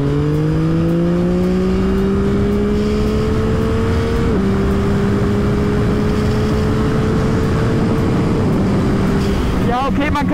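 A motorcycle engine drones steadily under load while riding, its pitch rising gradually with a couple of gear-change dips, loud and close with constant wind and road noise throughout.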